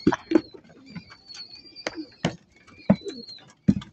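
Racing pigeons coo at close range: repeated soft, throaty calls in short bursts, with a few higher chirps and brief shuffling between them.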